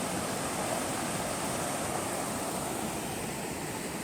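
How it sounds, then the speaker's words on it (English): Creek flowing over rocks at San Isabel Lake, Colorado: a steady, broad rushing of water, constant and fairly close, with no talk over it. "here is that amazing creek I have been telling you about"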